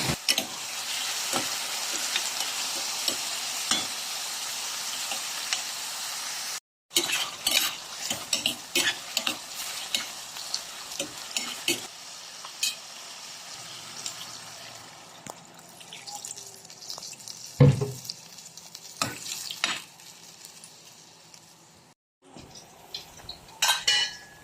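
Chicken sautéing in a pot with garlic, tomato and onion crackles and sizzles up close while a utensil scrapes and clanks against the metal in irregular stirring strokes, with a couple of brief dropouts and no voices.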